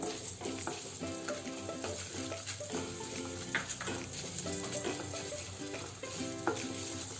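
Chana dal dry-roasting in a pan while being stirred, a continuous dry rustle and crackle with scattered scraping strokes, heard up close over a faint tonal background.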